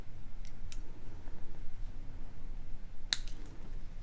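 Jewelry wire tail being trimmed with cutters while a turquoise beaded necklace is assembled: a few sharp, isolated snips ring out close and clean against a quiet background, with no one speaking.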